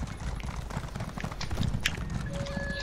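Horse hooves clip-clopping at a steady riding pace in Elder Scrolls Online, during a festive Santa-costumed race across Vvardenfell, with a busy game-sound wash around them.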